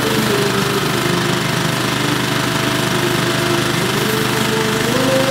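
Old paint is sandblasted off a dinghy with a steady, loud, rough hiss. An engine-like drone runs under it without a break.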